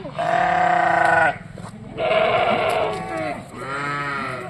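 Kathewadi goats bleat loudly and close by, three long wavering calls in a row with short pauses between them.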